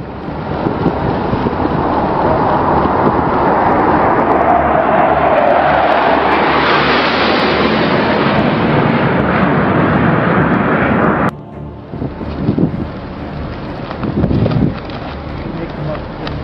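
A low-flying aircraft sweeps in over a ship's flight deck at bridge wing level, its broad engine roar swelling loud and steady before dropping sharply, followed by wind and engine rumble.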